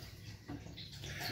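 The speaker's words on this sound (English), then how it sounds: "why is the water running out?" Bathwater draining out of a tub after the plug is pulled, a faint, steady gurgling wash with no talking.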